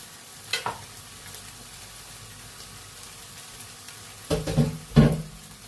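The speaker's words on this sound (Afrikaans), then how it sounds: "dan gaan ek net gou my laaste hoenderfilette wat ek nou in blokkies gesny het, gou bykrap" Cubed chicken fillets stirred into a hot frying pan, a soft sizzle running underneath with a few sharp scraping stirs, the loudest two close together near the end.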